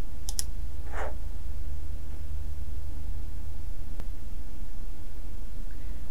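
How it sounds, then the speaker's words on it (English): A mouse clicks on a ThinkPad X13 Ryzen 7 laptop with a few sharp, isolated clicks, faint against a steady loud hiss, and no one speaks. "you can hear click on the mouse"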